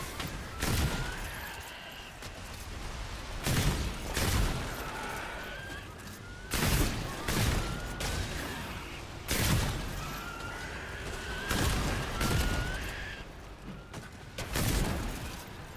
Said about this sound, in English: Dude, stop shooting at me.